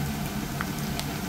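Dried fish fries in a pan with a steady, close hiss of sizzling oil and a few small crackles and pops over the short span, with no voices.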